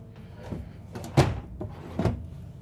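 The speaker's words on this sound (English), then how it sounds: "full extension drawer guides" A full-extension drawer on metal guides in a 2026 Newmar Super Star 4159 Super C motorhome slides and bumps through a few soft, close strokes, with light knocks near the middle and end.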